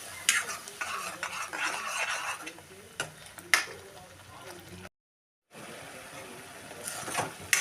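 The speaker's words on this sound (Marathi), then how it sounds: "मसाला तेल सुटेपर्यंत 7 ते 8 मिनिटे नीट परतून घ्या" Tomato masala is stirred in oil in a pan for a no-onion, no-garlic rajma, giving a steady scraping and clinking of a spoon against metal, with a brief silent gap midway.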